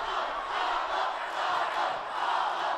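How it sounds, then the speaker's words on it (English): Student section cheering at a high school basketball game between Klamath Union and Mazama, a steady, loud crowd roar with no break across the whole moment. "student section cheering"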